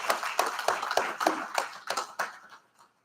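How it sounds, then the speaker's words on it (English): An audience at a university Amazon MRA program completion ceremony claps for their families and friends, distinct quiet handclaps in a loose rhythm that thin out and stop near the end. "you would just give a round of applause again for your family, friends that have sacrificed so much"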